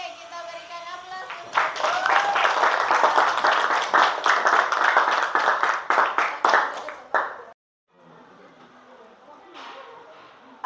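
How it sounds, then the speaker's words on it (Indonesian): Classroom applause from a group of students, steady, dense clapping for several seconds that stops abruptly and then gives way to faint room noise and murmurs. "kita berikan aplaus"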